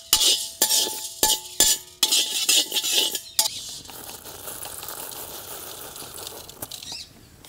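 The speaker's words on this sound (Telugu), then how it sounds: "ఈ శనగపప్పు బియ్యం 1 నిమిషం వేగాక మిరియాలు మెంతులు వేసుకుందాం. ఇదంతా 1 నిమిషం పాటు వేయించుకుని తీసి పక్కన పెట్టుకుందాం." Chana dal, rice, black pepper and fenugreek are dry roasted in a pan, a rapid rattling and scraping of stirred grains in close bursts that then thin into a softer, steady hiss; no voices.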